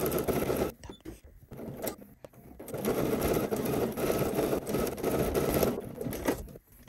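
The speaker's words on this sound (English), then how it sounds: "we're going to stitch really close to that seam line on the uninterfaced side" A sewing machine stitches seam allowance close to the seam line on the uninterfaced bodice piece of an M8361 dress, running in a loud steady burst after a few short starts and pauses.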